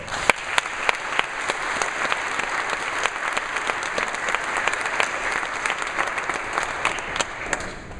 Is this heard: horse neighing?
no